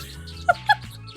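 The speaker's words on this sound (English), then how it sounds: "I love the distress squawking noise" Two quick, sharp squawks from a distressed bird in the skateboarding video game Skate Bird, spaced a fraction of a second apart over a low, steady game soundtrack.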